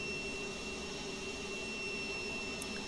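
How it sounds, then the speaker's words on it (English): Steady cabin roar of an American Airlines MD-80 jet engine in flight, a constant broadband whoosh with faint tonal whines, unbroken and even throughout. "I'm just leaving the engine sound on so if you guys just don't want to listen to me"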